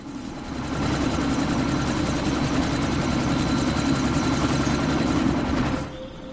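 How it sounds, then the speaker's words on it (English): Helicopter in the video game Deus Ex: Mankind Divided, a steady, loud rotor-and-engine drone that holds for about five seconds before dropping off sharply near the end. "You've got to stop that chopper."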